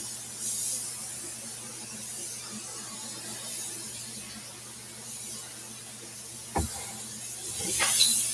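A steady, quiet hiss of an airbrush spray gun applying an adhesion coat to a motorcycle part, with a low hum underneath and a couple of short clicks near the end.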